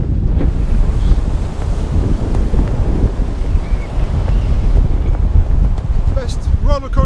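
Storm-force wind roars and buffets the microphone aboard a sailboat while heavy sea waves surge and wash around the hull, a loud, continuous rushing mass of noise with brief higher whistling near the end.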